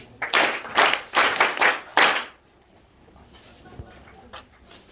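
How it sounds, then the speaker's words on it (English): Audience clapping for a solicitor being welcomed at a meeting, a loud burst of applause lasting about two seconds in several swells, then fading to a quiet room. "Let's give a handy clap for him."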